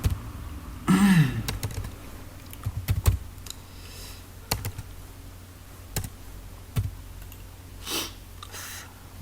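Computer keyboard typing while entering a concrete material-statement formula, a few scattered key clicks and a firmer enter press, close and quiet against a soft room background.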